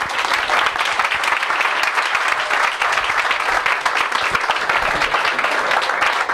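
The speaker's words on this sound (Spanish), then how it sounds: "Un aplauso para Javier, por favor." Steady applause from an audience at a talk on artificial intelligence, dense and continuous clapping held at an even level throughout as a speaker is welcomed.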